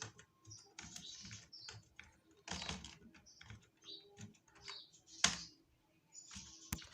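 Keys being typed on a computer keyboard while entering data into an Excel spreadsheet, a steady run of close, light clicks in short bursts with brief pauses and a few sharper taps.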